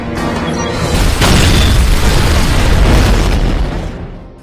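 A loud, deep explosion from the action film The Hit booms and rumbles with a long roaring tail for several seconds, with no voices over it.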